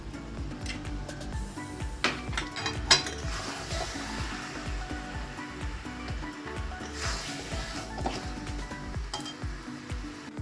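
Katla fish heads and potatoes stirred in spice masala in a pan, an oily sizzle under repeated scraping and clinks of the utensil against the pan, close and moderately quiet.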